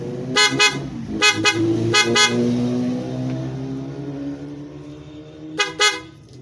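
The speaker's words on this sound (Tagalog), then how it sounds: "loud horn" A loud PIAA car horn blares in short paired honks, then again after a pause, over a steady low engine hum.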